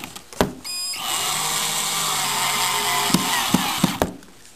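A power drill whirs steadily for a few seconds while driving a small screw into a drawer, framed by sharp clicks and knocks of handling before and after.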